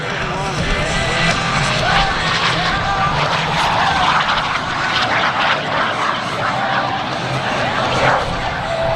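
A small maneuverable jet flown by a civilian pilot roars loudly and steadily through aerobatic loops and rolls at an airshow, a continuous broadband engine wash with faint voices beneath it.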